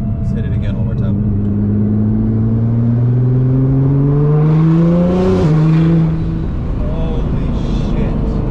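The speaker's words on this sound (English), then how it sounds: "So that's what full titanium exhaust sounds like in person." A 2016 Nissan GT-R with a full titanium exhaust revs hard nearby, its loud engine note climbing steadily through third gear, peaking sharply and then dropping, with a lingering rumble afterward.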